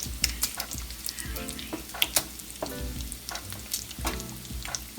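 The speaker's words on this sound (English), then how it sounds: "let me just stir the grits a little bit more" Grits being stirred in a pan, heard as a spoon scraping and knocking in uneven strokes against a constant close sizzle and crackle of frying.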